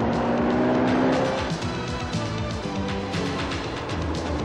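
A car engine revs hard on automatic transmission kickdown and climbs in pitch as it accelerates, loud and close, with a steady roar throughout.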